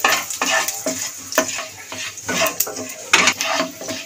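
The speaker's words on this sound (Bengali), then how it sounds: "এটা হালকা করে ভেজে নেব।" Two dry chillies and five-spice tempering frying in hot oil, a close sizzle broken by repeated metal spatula scrapes against the pan in an irregular rhythm, with no talking.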